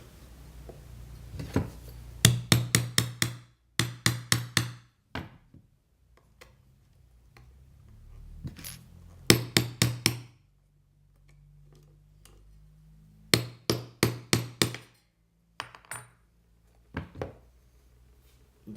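Hammering nails with a small nail punch while building a slide guitar, heard as close, sharp metallic taps in quick bursts of four to six blows separated by pauses, with a low steady hum underneath.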